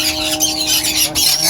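A breeding pair of conures, one black-capped and one green-cheeked, let out loud, harsh squawks close by in a bird setup. The shrill calls come in quick bursts over a faint steady background hum.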